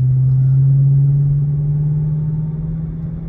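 A car engine holds a steady, loud, close rumbling drone that rises slightly in pitch and then eases off slowly toward the end.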